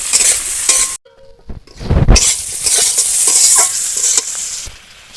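Potatoes and eggplant fry in a covered pan, a loud steady sizzle with stirring and utensil scrapes, broken by a brief near-silent gap before the crackle returns.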